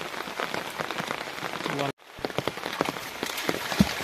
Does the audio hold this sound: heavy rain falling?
yes